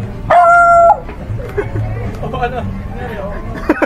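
A single loud, sharp dog bark or yelp rings out close by, followed by quieter murmuring voices and background chatter.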